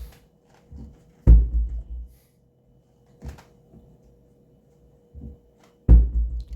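A kitchen cabinet door fitted with bumpers shuts with a soft, cushioned thud, followed by another; the closes are muffled and close by, with quiet handling noises between them.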